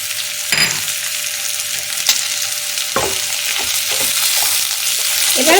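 Tofu tossed with chili and turmeric powder frying in a pan, a steady close hiss of sizzling oil broken by scraping spatula strokes and occasional clinks as it is stirred.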